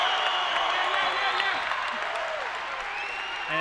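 Basketball fans in an arena at a men's college game cheering and applauding a putback, a broad steady roar of clapping heard under a commentator's voice.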